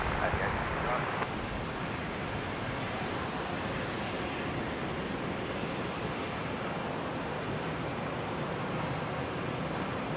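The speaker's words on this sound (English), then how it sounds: "There goes the Qantas 330. Just caught it in time." Qantas Airbus A330 jet taking off from Brisbane airport, heard as a distant, steady roar of engines continuing throughout, fairly faint against background noise.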